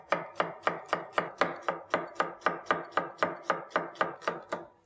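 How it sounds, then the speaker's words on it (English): Regular red onions are sliced thin with a knife on a cutting board: about eighteen even, crisp chops in a fast steady rhythm, close and clear, with no talking. "These are regular red onions. We need to slice these nice and thin."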